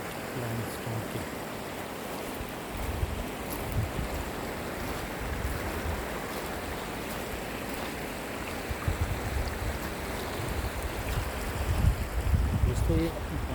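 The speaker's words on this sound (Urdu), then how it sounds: "دوستو یہ پانی کا شور" River water rushing over limestone rocks in the stream below Sinjawi dam, a loud, steady broadband roar close by with occasional gusts of wind buffeting the microphone.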